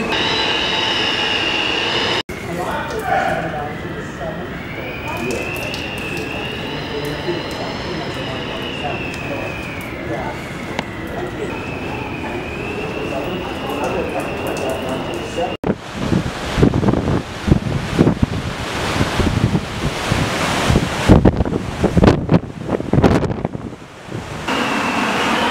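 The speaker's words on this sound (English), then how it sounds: "That's powerful wind." Strong wind and waves batter the Norwegian Breakaway cruise ship during a bomb cyclone: a continuous loud roaring rush, with a high whistling tone early on. It grows harsher and gustier about midway, and voices are faintly present.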